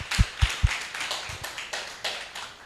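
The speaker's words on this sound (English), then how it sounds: "Let's clap for Thais as well." A small audience at a student pitch day gives a brief round of applause, a few sharp close claps followed by softer, scattered clapping that fades quickly.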